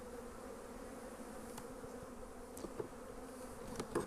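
Honey bees hum continuously around hives set on a pallet, a close, even drone with a few louder passes of single bees near the end.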